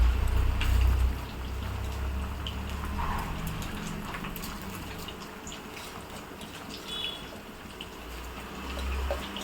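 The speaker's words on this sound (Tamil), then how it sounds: "இந்த பாஸ்மதி ரைஸை இதில் போட்டுடலாம்." Washed, drained basmati rice for rose chicken biryani poured into a pot of water: soft splashing and trickling with a low bubbling rumble, fairly faint and continuous.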